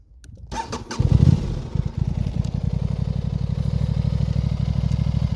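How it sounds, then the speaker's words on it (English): An Aprilia Tuono 660 motorcycle engine cranks and catches with a brief burst, then settles into a steady, close, rapidly pulsing idle. "Do I have to start the engine?"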